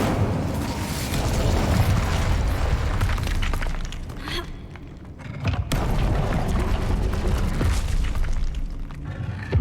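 The Incendio fire spell in Hogwarts Legacy, a loud sustained roaring whoosh of flame with booming crackles, a brief dip midway, then surging again, with combat sounds and a voice mixed in.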